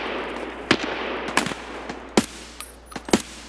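Gunfire from player-controlled fighters in the Escape From Tarkov shooter game: about five sharp shots ring out at irregular intervals over a steady outdoor ambience, at some distance below the listener.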